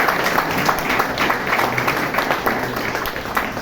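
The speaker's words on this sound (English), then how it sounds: "Can I have a round of applause for her?" An audience at a Toastmasters meeting applauding a best speaker award winner, a dense steady patter of many hands clapping together, fairly loud and unbroken from start to finish.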